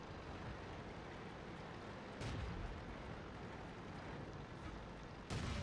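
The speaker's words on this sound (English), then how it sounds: "Su-26 decides to shoot at the dead B1 body" Two booming tank cannon shots fired in a World War II tank video game battle featuring an M3 Lee and Su-26, each a sudden low thump over steady engine rumble, spaced a few seconds apart.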